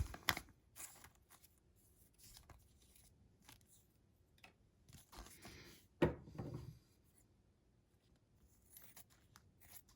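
A 1972 Topps baseball card Christmas rack pack is cut open: quiet scratching and snipping sounds, then one sharper crunching cut partway through, close up with no talk.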